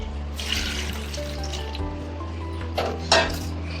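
A steady stream of water runs and splashes into a pot with salt and turmeric nearby, with a faint hum underneath and a small clink near the end.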